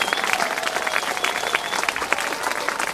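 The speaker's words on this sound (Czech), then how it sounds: "Zatleskejte inteligentovi!" A theatre audience claps steadily at a live clown and circus-style show, dense continuous applause with a few whoops and cheers mixed in.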